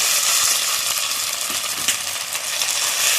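Chopped tomatoes fry in a pan for a spicy black carp fish kalia, giving a steady, bright sizzle with faint stirring scrapes and occasional small clicks throughout.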